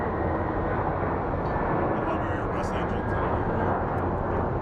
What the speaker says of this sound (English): Airbus makes the most random noises